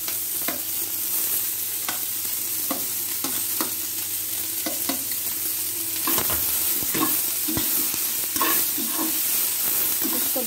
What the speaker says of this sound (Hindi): मैं इसको मीडियम फ्लेम पर भून रही हूँ।